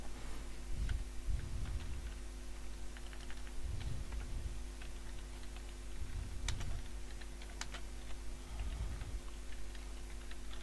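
Typing on a computer keyboard: quiet, intermittent clusters of key clicks arriving in short bursts with pauses between, over a steady low hum.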